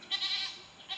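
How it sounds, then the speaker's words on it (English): Farm goats bleat while begging for food, near hay set out for them: a couple of loud, close, wavering cries rising and falling across a second, with no talking. "the goats behind us are begging for food"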